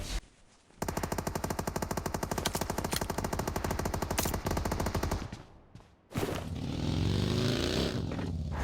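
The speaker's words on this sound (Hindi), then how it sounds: "इस साइड पे मुझे राइट साइड से काफ़ी फायर्स आ रहे होते हैं" Rapid, continuous automatic gunfire from a battle royale video game match in an ancient temple mode, loud and sustained for several seconds, then a brief lull before a different engine-like roar takes over.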